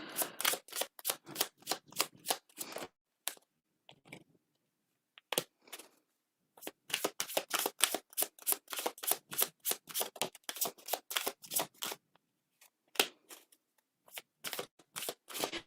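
Tarot cards are shuffled close by in repeated quick riffling bursts separated by short pauses, quiet and alone.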